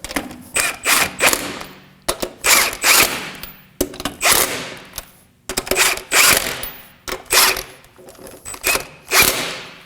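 Ratchet snugging the wheel lug nuts on an Acura MDX, 2014-2020, during a front steering rack bellows job: a series of close, loud bursts of rapid clicking and spinning, separated by short pauses, with no talk.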